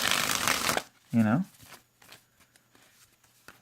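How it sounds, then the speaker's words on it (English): A brief, brisk riffle of playing cards up close, then a person starts talking. "it's an okay shuffle with the backs facing up"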